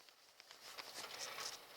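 Light rain patters steadily outdoors, a faint, even spray of soft taps with no voices.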